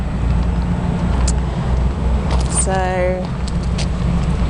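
Steady low rumble of idling trucks and vehicle noise at a small truck stop in Bucyrus, continuous and loud, with a brief whining tone partway through and a voice speaking briefly.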